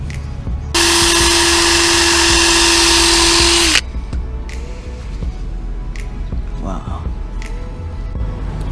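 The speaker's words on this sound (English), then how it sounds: "it's been 5 minutes that I keep drilling and nothing, not even a tiny bit" A high-pitched power drill whines steadily for about three seconds, grinding into the hard cover of a BMW E46 U-joint, then stops, leaving background noise.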